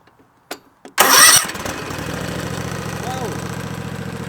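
A zero-turn lawn mower engine cranks after a couple of faint clicks, catches with a loud burst and settles into a steady, close idle rumble.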